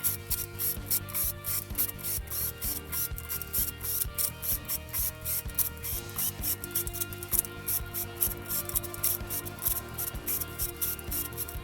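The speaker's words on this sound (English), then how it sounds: "I'm going to tighten each spoke nipple until there's about maybe 6 or 7 threads showing" Steady mechanical clicking and ratcheting as spoke nipples are tightened on a laced dirt bike wheel, a fast even rhythm running throughout over a constant low hum, close up with no voices.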